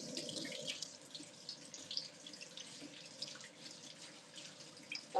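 Water runs steadily from a kitchen tap while items are rinsed, a soft, continuous splashing flow with faint drips, quiet and close.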